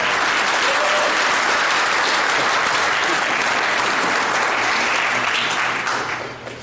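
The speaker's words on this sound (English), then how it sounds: "Give a round of applause." Loud, sustained audience applause at a Conan the Barbarian panel at San Diego Comic-Con 2024, dense clapping and some crowd noise, holding steady before tapering off slightly at the end.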